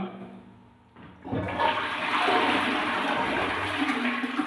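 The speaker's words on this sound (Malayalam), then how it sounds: "ഇതുപോലെ ഒന്ന് ഫ്ലഷ് ചെയ്ത് കഴിഞ്ഞാൽ" A toilet flushes close by, with a click followed by a rising rush of water that gurgles and swirls steadily until the end.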